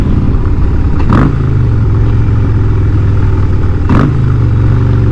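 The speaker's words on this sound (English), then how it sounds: "Oh man, those downshifts." A Harley-Davidson motorcycle engine drones steadily, with two sharp revving blips as it downshifts, the pitch dropping after each one.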